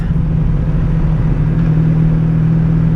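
A 1984 Honda V65 Sabre 1100 motorcycle engine, heard from the rider's position while downshifting from fifth to fourth gear: a loud, steady low rumble that hums continuously and close with rushing wind, no clear rev change.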